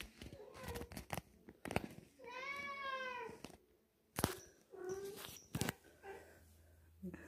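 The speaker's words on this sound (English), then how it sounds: "this is my cat Laura, who's very excited to see me right no" A pet cat meows in a drawn-out, rising-and-falling cry close by, between scattered handling noises and brief bursts of excited human voice.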